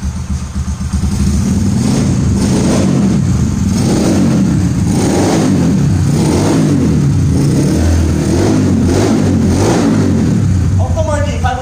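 A Yamaha Factor 125 motorcycle bored out to 140cc revs repeatedly in pulsing surges over a steady close engine drone, while someone talks over it.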